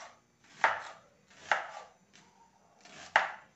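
Onion being chopped on a board with a knife in a home kitchen at night, four distinct close, firm thuds spaced at uneven intervals, each with a short crisp attack, no voices.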